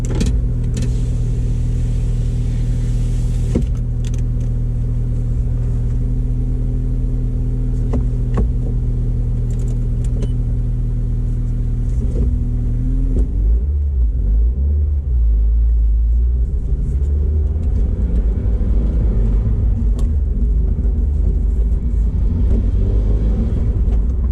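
A rusty Mazdaspeed 6 being revived has its engine running loud and close: a steady, deep idle drone that shifts midway into rougher, rising revving rumble, with no talking.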